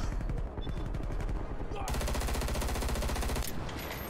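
Dense rapid automatic gunfire in the shooter game Black Ops Cold War, loud continuous bursts with a shift in weapon tone midway, heavy layered shots throughout.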